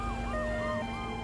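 Cartoon emergency vehicles, a fire truck, an ambulance and a police car, arrive with wailing sirens whose pitches sweep up and down in overlapping loops over a steady low engine drone.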